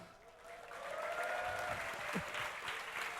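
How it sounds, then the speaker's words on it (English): An esports crowd at a League of Legends match at DreamHack Summer 2012 applauds and cheers, a steady wash of clapping heard from within the hall, with a faint voice over it. "Let's have a cheer for Gosu Pepper and Snoopy."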